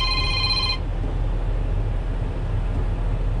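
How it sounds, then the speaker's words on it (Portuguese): A telephone rings briefly at the start, a bright electronic trill that stops after under a second, while the steady low rumble of a Caterpillar 120K motor grader engine continues underneath. "olha o telefone tocando no lugar desse"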